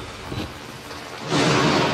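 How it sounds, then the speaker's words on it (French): Thunder from a thunderstorm rolling in a low, steady rumble with rain hissing beneath it, then swelling into a louder, broader crash near the end. "Vas-y, l'orage là!"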